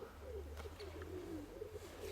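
Pigeons coo softly in a low, rolling, repeated pattern outdoors with a steady low hum beneath and a couple of faint chirps, quiet and somewhat distant, no talk.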